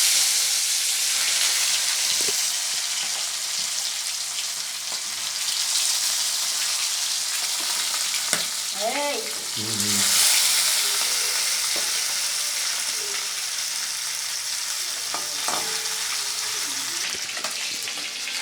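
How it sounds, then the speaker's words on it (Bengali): Snakehead fish pieces rubbed with salt and turmeric fry in oil with a loud, continuous hissing sizzle, a surge as they go in and scattered spatters and stirring scrapes. "এবার আমি নুন হলুদ মেখে রাখা শোল মাছের টুকরোগুলো দিয়ে দিচ্ছি"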